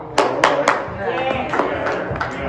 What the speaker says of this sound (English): I only hear two people clapping.